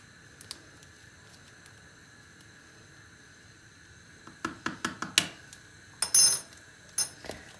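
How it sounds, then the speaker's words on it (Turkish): Thick chocolate soufflé batter with baking powder is whisked in a bowl, giving a run of wet, squishy strokes and clinks against the sides that start after a quiet stretch, irregular and close. "Ve çırpma işlemine devam ediyoruz."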